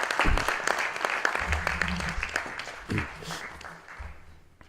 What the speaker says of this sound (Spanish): un aplauso muy fuerte para Catalina